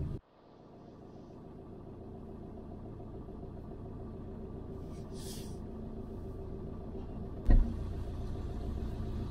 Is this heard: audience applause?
no